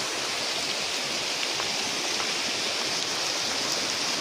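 Floodwater rushes over a path after a night of heavy rain, a steady, loud, broadband wash of flowing water with no pauses, close by and unbroken throughout.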